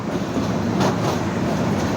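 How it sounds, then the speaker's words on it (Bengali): A train crossing the bridge over the Meghna River at Ashuganj rumbles steadily along at close range, a dense continuous roar of wheels and carriages with no voices. "ট্রেনের যে শব্দগুলা শুনতে অনেক ভালো লাগে"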